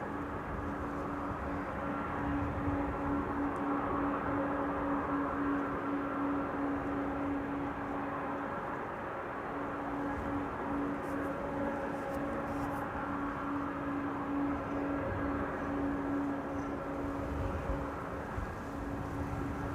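Aircraft at Amsterdam Schiphol Airport heard as a steady, distant roar and broad rumble with a faint sustained engine whine, unchanging throughout and without speech.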